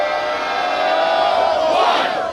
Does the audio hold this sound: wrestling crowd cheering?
yes